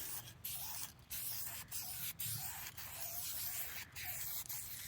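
A spray can hisses finish onto oak wood in several steady bursts with short pauses between, soft and close, with no talking.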